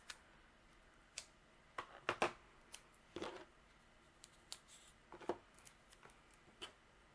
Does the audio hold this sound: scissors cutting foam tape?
yes